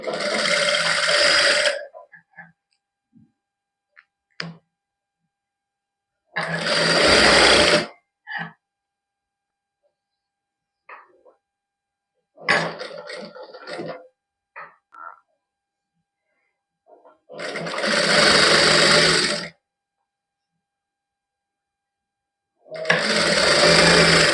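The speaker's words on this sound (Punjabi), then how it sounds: "ਇਸ ਤਰ੍ਹਾਂ ਹੀ ਸਲਾਈ ਲਾਉਂਦੇ ਲਾਉਂਦੇ ਆਪਾਂ ਆ ਗਏ ਜਿੱਥੋਂ ਸ਼ੁਰੂ ਕੀਤੀ ਸੀ ਉੱਥੇ ਆ ਗਏ" A sewing machine stitches net lace onto a dupatta in several loud bursts of steady whirring, each lasting a second or two, separated by silent pauses.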